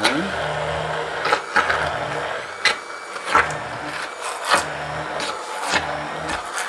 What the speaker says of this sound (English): And I have here a handheld mixer. You're just pushing that down in.